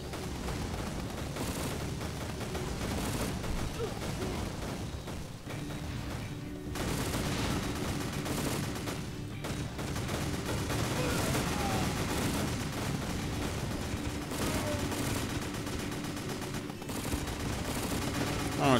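Sustained bursts of machine gun fire and explosions in a war strategy video game, a dense continuous barrage with booming impacts throughout.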